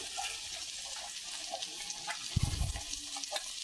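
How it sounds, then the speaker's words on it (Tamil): Fenugreek seeds and onion fry in hot oil in a pan for rasam, a faint, steady sizzle with a brief stirring scrape near the end. "வெந்தயம் நல்லா பொரியணும், வெங்காயமும் நல்லா பொரிஞ்சு வரணும்."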